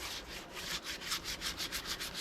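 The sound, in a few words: sanding an eco resin pot with sandpaper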